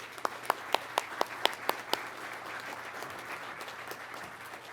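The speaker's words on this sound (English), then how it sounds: "A round of applause for our instructor pilots" Applause for instructor pilots at a pilot training graduation, opening with a handful of sharp, evenly spaced nearby claps before a broader crowd round of clapping takes over and continues softly.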